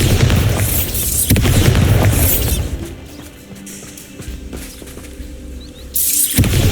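In Hogwarts Legacy, the Bombarda blasting spell goes off in heavy, booming explosions: two big bursts in quick succession, a quieter stretch with faint chirps, then another loud blast at the end.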